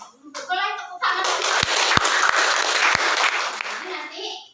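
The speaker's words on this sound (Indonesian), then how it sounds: "boleh tepuk tangan" A classroom at Universitas Bengkulu breaks into applause, a dense, loud wash of clapping with a few sharp individual claps standing out. A voice speaks just before it starts and again as it fades.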